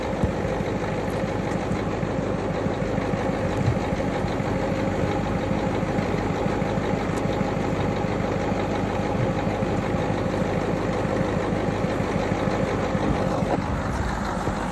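A 6.9 IDI diesel engine idles steadily, running rough with a constant knocking clatter and low rumble for the whole stretch, close by and alone without talk.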